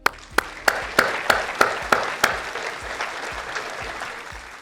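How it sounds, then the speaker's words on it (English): Scattered audience claps at a regional chamber of commerce awards event: a handful of sharp, distinct claps ring out in quick sequence with room echo, then thin out into fainter, sparser clapping. "please give them a round of applause"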